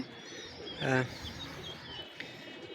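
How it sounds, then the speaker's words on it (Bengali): A single brief coo from a Kasuri pigeon sounds once up close, short and throaty, then gives way to faint background ambience. "এক পেয়ার কাসুরি কবুতা দেখতে পাচ্ছেন"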